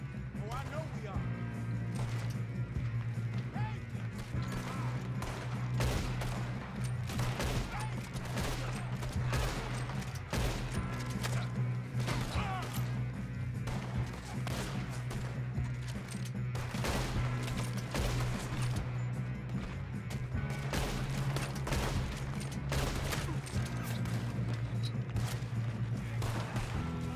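Rapid gunfire rattles through a shootout in Red Dead Redemption 2, dense volleys of shots and bursts over a steady low hum for the whole stretch, with voices speaking at times.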